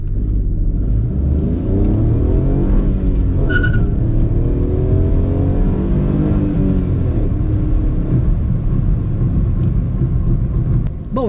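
A Chevrolet Onix LT 1.0 three-cylinder car accelerates hard, its engine droning loudly and steadily with rising and falling pitch as it revs through gears, close and continuous.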